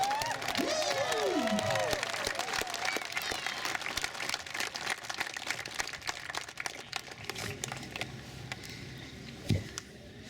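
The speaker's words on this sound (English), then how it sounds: "give a round of applause to all our veterans" Outdoor crowd at a Red Lake Nation veterans gathering applauding for veterans: steady broad clapping filling the whole stretch at a moderate level, with scattered voices and a brief louder bump near the end.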